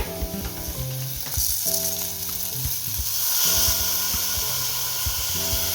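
Rice and frozen vegetables sizzle steadily in a pan in a university dorm kitchen while being stirred, a close hissing fry under clanking stirring and a faint musical background.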